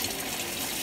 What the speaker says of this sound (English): So I just scrub it and let water run through.